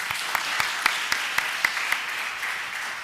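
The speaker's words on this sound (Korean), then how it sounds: "우리 박수 한번 칠까요?" A church congregation at a Sunday worship service applauds together, a steady wash of many hands clapping with a few sharper claps standing out, moderately loud and continuous throughout.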